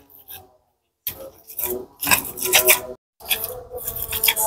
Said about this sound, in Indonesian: Sekarang mau aku haluskan. Gak perlu halus-halus, cukup diulek kasar aja teman-teman.